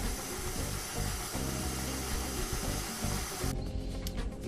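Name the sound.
mixer mixing brioche dough with warm milk and yeast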